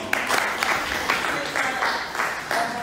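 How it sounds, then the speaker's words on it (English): A small group claps for the speaker's mother on her birthday, a modest round of hands with rhythmic patters, close by, with some voices mixed in underneath. "So clap for my mom."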